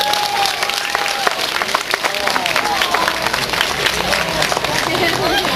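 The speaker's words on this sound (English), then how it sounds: "I don't think Fedor was all that impressed with the size of that applause" Applause and scattered clapping from an audience for Fedor, a swimming tiger crossing a pool, a steady dense patter holding for several seconds with crowd murmur underneath.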